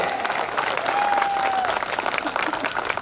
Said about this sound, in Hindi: आपकी तालियां उठे।